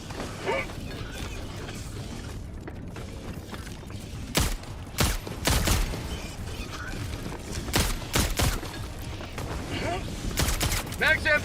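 Gunfire in Helldivers 2 as a machine gun and scout strider are attacked, with sharp, loud shots in scattered bursts and clusters over a steady mechanical game background.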